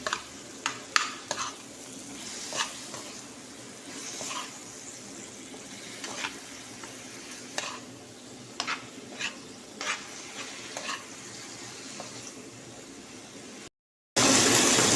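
Vegetables and fish being stirred in a frying pan: a steady sizzle runs throughout, broken by a dozen sharp scraping strokes of the utensil against the pan, with a louder burst of frying in the final second.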